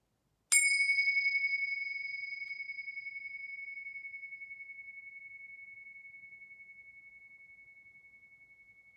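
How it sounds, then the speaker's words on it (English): A single meditation bell struck once, its clear ringing tone sustaining and slowly fading toward silence over several seconds, heard alone in a quiet room. "I'll ring the bells, and you bring your full attention and presence to it until it dissolves into silence."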